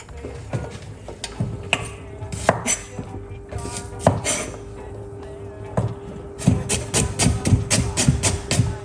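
Fresh ginger is chopped on a board with quick, uneven knife knocks, some in bursts and some spaced apart, close and fairly loud over a faint steady hum.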